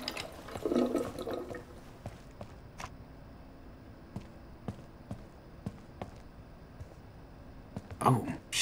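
Running water from a tap in the video game Life is Strange 2, a broad steady wash with a louder gush near the start and at the end, with voices talking over it.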